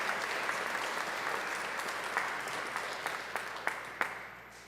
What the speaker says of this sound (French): Il mérite nos applaudissements coordonnés par Jocelyne